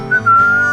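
A lone, clear whistled melody from the K-Rose country radio jingle in GTA San Andreas, sustained and steady over a soft backing.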